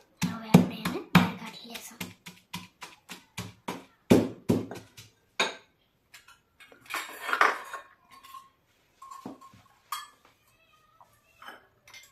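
Garlic pounded into a paste in a home kitchen, a run of sharp metallic knocks of pestle on a pot, quick and rhythmic at first, then sparser clinks, with faint voices in the background.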